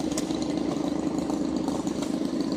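An old tractor engine runs steadily at an Indiana tractor show, a continuous low mechanical drone heard close and fairly loud with no talk over it.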